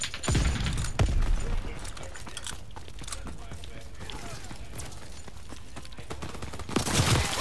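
Gunshots ring out in Call of Duty: WWII, with a few sharp close shots early and a burst near the end, set against a steady game background while players talk over the action.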